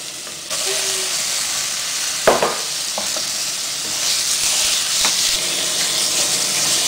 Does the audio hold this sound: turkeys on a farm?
no